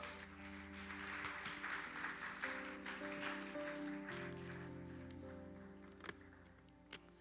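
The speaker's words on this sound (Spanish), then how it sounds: "Dale un fuerte aplauso al Señor." Quiet, distant applause from a church congregation patters steadily for several seconds, with sustained musical tones underneath and a couple of sharp knocks near the end.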